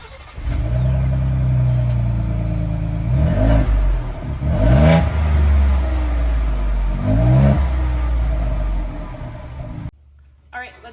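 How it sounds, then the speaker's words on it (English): A Ford Bronco with its stock exhaust starts and idles, then revs sharply three times, each throttle blip rising and falling over a steady rumble before the engine cuts off. "we're going to do a quick sound clip of the stock exhaust so we can hear the difference."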